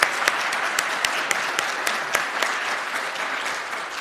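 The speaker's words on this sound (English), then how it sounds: "Let's give him a round of applause." An audience at a dairy summit welcome session applauds a state agriculture secretary, steady dense clapping with a few sharper individual claps standing out, sustained evenly for several seconds with no talking.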